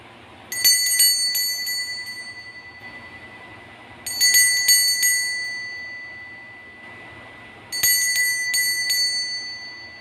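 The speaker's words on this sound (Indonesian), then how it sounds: "Kita akan melanjutkan dengan tanda lonceng berbunyi ya." A bright bell rings in three separate bursts, each a cluster of quick metallic dings that ring out and fade before the next.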